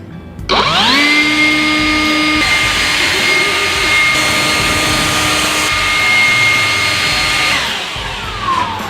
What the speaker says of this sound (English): we're taking the new DEWALT 20 Max brushless blower, and we're gonna see what it does to my boy's hair